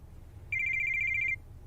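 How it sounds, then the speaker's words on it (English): A cell phone rings with a single burst of rapid, warbling electronic trills, clear and fairly close, over a quiet low rumble, with no voices. "My cell phone rang."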